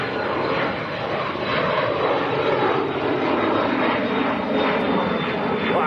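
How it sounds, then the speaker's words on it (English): A Phenom business jet takes off at Leeds Bradford Airport under a low cloud base, a loud continuous engine roar that stays steady and close throughout, with no voices over it. "The little Danish Phenom on the roll. Should just get to see this rise lift off in front of us."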